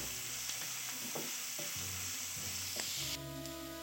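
Dried red chilies and ginger garlic paste sizzle steadily in a pan for a butter chicken dish, with a few stirring scrapes over the constant frying hiss.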